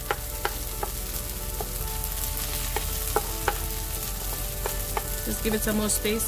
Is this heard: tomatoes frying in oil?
yes